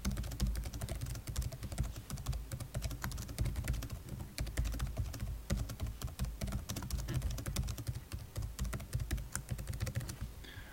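Quiet, rapid clicking of keys on a computer keyboard as someone types steadily, with brief pauses between bursts of keystrokes.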